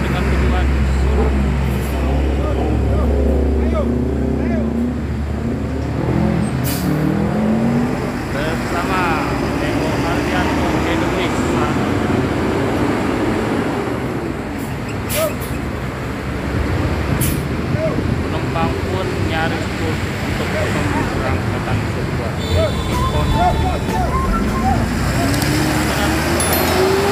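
Murni Jaya bus pulling away from the terminal at a busy holiday-travel departure, a loud low engine rumble and surrounding traffic noise, with a hiss of air brakes and a voice speaking over it throughout.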